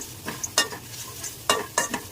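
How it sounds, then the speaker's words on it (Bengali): Onion, garlic and coriander dry-fry in a pan without oil, a soft sizzle broken by several sharp scraping stirs of the spatula, close and fairly quiet. "সব তেল ছাড়া ভাজছি"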